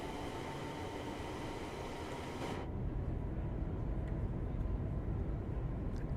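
A Class 350 electric train runs on the Wolverhampton–Birmingham line in Train Sim World 6, giving a steady, close interior rumble and hum; a higher hiss drops away partway through, leaving the low drone.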